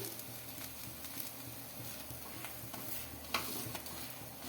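Aloo paratha made with wheat flour roasting in oil on a pan, giving a faint, continuous sizzle with soft crackles and a few small pops as it is pressed, no talk.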